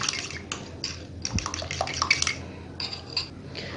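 Milk and two spoonfuls of dry milk powder are stirred together in a bowl for shahi tukray, giving a soft, steady clinking and sloshing of a spoon against the dish, fairly quiet and continuous.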